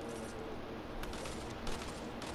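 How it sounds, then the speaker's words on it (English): Dense, continuous bursts of rapid gunfire in Fortnite, steady and fairly loud throughout, with a few sharper volleys partway through. "Here, I hear gunfire."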